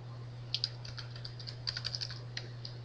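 Typing on a computer keyboard: clusters of light, crisp key clicks in short bursts with pauses between, close and fairly quiet over a steady low electrical hum.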